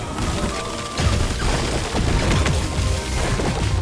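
In Deep Rock Galactic, the Wavecooker microwave gun triggers temperature shock with the Cryo Cannon, giving loud, continuous crashing blasts and booming impacts that overlap in rapid clusters, with no speech.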